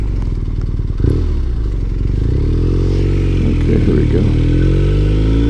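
A BMW R 1250 RS motorcycle rumbles in a steady, loud, low drone while being ridden, with a brief clatter near the start and someone speaking briefly over the engine.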